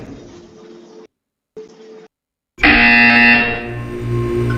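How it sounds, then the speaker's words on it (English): A buzzer sounds in the video game Portal 2 after two short bursts of quieter game audio separated by silence, then a loud, sustained harsh electronic tone that holds to the end. "You will hear a buzzer."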